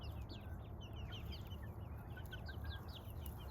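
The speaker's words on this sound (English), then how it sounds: "chickens make these fun sounds, like an inviting little tweety sound when they have something" Chickens and turkeys around a newly built roost give soft, repeated high tweety chirps and clucks, faint and somewhat distant over steady low outdoor rumble, with no talking.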